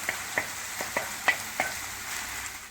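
Lamb meat fries in a saç tava pan with a steady hiss, punctuated by several sharp spatters and clicks at irregular intervals. It sounds close, and no one talks.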